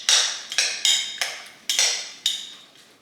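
Slaw dressed with Mexican chimichurri is mixed in a bowl, with six crisp, evenly spaced scraping knocks that each fade quickly. The sound is close and clear, with no talking.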